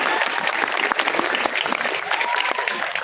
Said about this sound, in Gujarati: ખૂબ બધી તાળીઓથી વેલકમ કરીએ